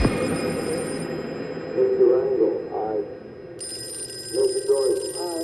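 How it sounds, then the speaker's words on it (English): A telephone rings in two separate bursts of warbling tones, moderately loud, with quieter background between the rings. "Phone call comes to her on the floor."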